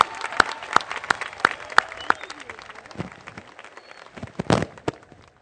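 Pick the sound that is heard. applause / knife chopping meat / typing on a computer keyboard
applause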